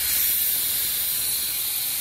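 Steam hissing steadily from the valve of a pressure cooker used to cook beans, a loud, continuous, bright hiss close by with no pauses.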